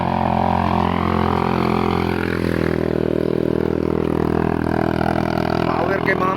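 Motorcycle engines run steadily near Mt. Apo, a loud continuous drone with harmonic hum and some clatter, while voices talk over it throughout.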